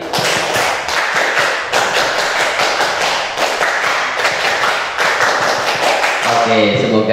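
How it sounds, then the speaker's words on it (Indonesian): Meeting participants clap a Pramuka scout clapping pattern together, a dense rhythmic series of sharp claps that runs steadily throughout before voices come in at the end. "tepuk pramuka 2 kali"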